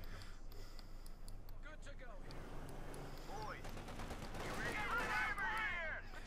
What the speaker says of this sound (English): Light machine gun fire raking out the advancing riflemen.